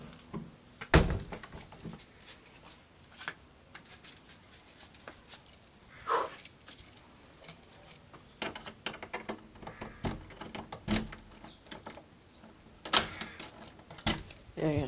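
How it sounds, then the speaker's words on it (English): Keys jangle in short metallic bursts while a house door is locked, with a few thunks from the lock and door; a dog is also heard now and then, and a person talks intermittently nearby. "I'm gonna take these keys."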